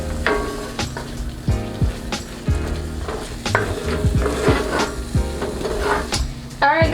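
A spoon stirs pine tart filling in a pot as rum is mixed in, giving steady scraping and knocking strokes under a soft background sizzle, close and fairly loud throughout.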